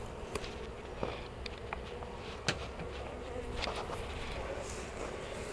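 Honey bees buzz around a hive frame while honey is being pulled, a steady dense drone with scattered sharp clicks and knocks of handling.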